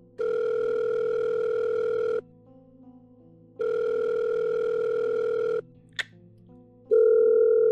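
Two long electronic ringback tones from a phone call in VRChat, each about two seconds with a pause between, followed by a short blip and the start of a third tone.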